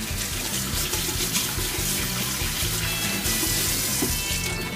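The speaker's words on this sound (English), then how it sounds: "let me rinse my hands" Hands are rinsed under a running tap, and the water gives a steady, close, full splashing rush throughout with no talk.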